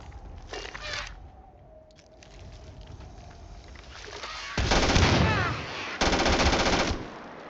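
Automatic gunfire in the video game Starfield comes in two loud, dense bursts near the end, after quieter shots and ambient game sounds, close and harsh.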